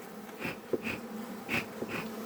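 Honey bees buzzing around a tight, healthy hive, a steady drone with individual bees swelling louder as they pass close, no voices.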